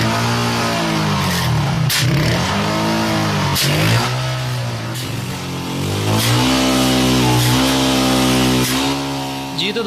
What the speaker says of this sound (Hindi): अब हम मोटरसाइकिल को स्टार्ट करें।